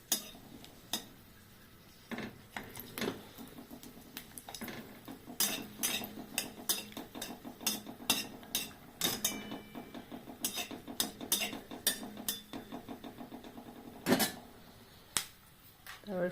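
Green chili dropped into hot mustard oil in a kadai for tempering, giving a run of sharp crackles and spits that come close and fairly loud, scattered irregularly and peaking near the end, with faint metal clinks among them.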